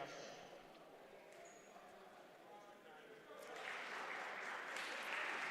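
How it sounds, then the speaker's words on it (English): Audience applause in a gym at a high school wrestling dual meet, a steady wash of clapping that swells louder in the last two seconds, with crowd noise throughout. "But let's see, they are clapping."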